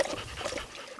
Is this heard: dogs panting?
yes